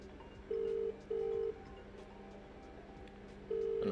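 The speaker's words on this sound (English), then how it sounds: "So I'm getting a phone call." A telephone rings in short electronic bursts: two rings close together, a pause, then a third, over a quiet background hum.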